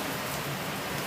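Rain falls in Jamaica as a dense, even hiss of drops on surfaces, steady and fairly soft throughout the brief moment with no voices.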